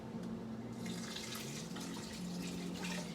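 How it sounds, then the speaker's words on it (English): Water pours in a steady, continuous stream into a stock pot while hot sauce is made, with a faint hum in the background. "I added some water, some lime juice, and some vinegar"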